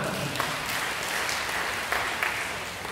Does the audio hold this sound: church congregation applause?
yes